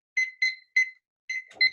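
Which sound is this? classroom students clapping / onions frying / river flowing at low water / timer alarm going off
timer alarm going off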